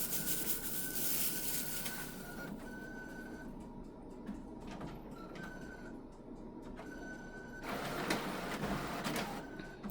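An HP OfficeJet inkjet printer grinds and whirs while trying to pull in a sheet of thin DTF film, with steady mechanical motor noise and recurring higher whining feed tones in short bursts, close and moderately loud.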